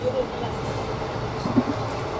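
A steady low rumble fills the inside of a moving train carriage, a continuous rolling drone with faint rattles and one small knock, while voices talk quietly in the background.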